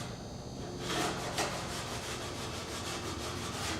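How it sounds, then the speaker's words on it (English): Sandpaper rubbing back and forth on the leading edge of a winglet on an experimental airplane under construction, steady rhythmic scratchy strokes up close, no talking. "mustn't forget to sand the top part of the bottom skin at the leading edge."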